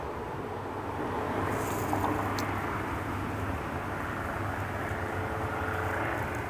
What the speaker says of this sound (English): There's a third plane going over me